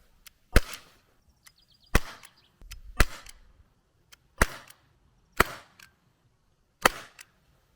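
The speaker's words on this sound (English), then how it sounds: "So I fired 6 shots through here" A Gamo P-25 blowback CO2 air pistol fires six sharp, loud shots spaced about a second apart, each a crisp crack with a quick mechanical clack, and faint clicks in between.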